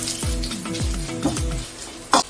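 Garlic and green chillies fry in a dal tempering with turmeric and chilli powder, giving a steady close sizzle punctuated by several stirring scrapes and a sharp clink near the end.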